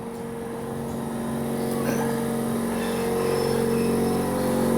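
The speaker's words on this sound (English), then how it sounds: "excuse the compressor noise, that'll go off in a second." An air compressor runs steadily in an upholstery workshop, a constant loud mechanical hum with a sustained drone that fills the space, alone without any talk.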